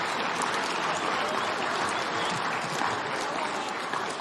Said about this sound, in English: A round of applause for all of our Cara Brook pollsters.